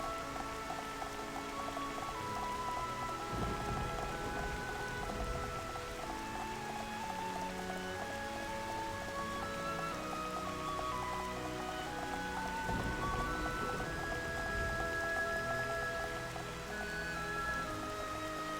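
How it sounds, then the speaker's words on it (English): Steady rain with distant rolling thunder in the Xenoblade Chronicles video game, a continuous wash of rainfall under layered calm music and tonal ambience, no talking. "this nice calming landscape with like thunderstorms rolling in the background"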